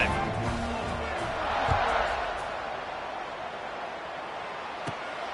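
A football stadium crowd at a North Carolina game roars in a broad, distant wash of cheering after a scoring drive, swelling briefly and then settling into steady noise.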